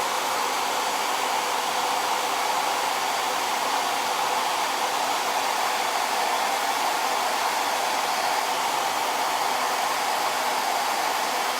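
A hair dryer drying screen print paste on a printing board, a loud steady close whoosh running without a break from start to finish.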